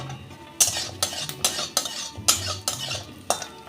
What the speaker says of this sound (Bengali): বড়িটাকে আমি লাল করে ভেজে নেব